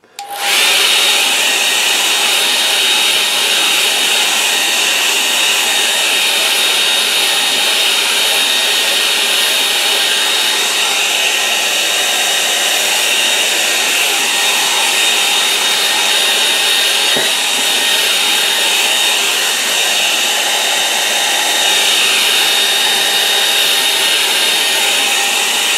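Hair dryer blows on a watercolour painting to dry it, a loud, close, continuous whooshing roar lasting the whole stretch with slight swells as it waves, with no talk.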